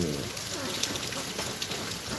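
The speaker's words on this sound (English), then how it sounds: "I know y'all hear the rain. It's dripping from this old ass building that need remodeled." Rain drips and patters from an old building, a steady close wash of drops with occasional louder splashes, heard on its own.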